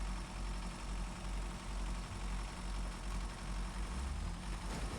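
A Burlak truck engine from Snowrunner drones in a steady low rumble, a continuous heavy hum that holds at even loudness without distinct rev surges, moderately quiet.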